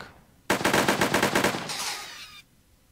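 A rapid burst of about a dozen machine-gun shots from the Heroes of Normandie digital game, loud and sharp, trailing into a brief hissing tail before going quiet, with no talking.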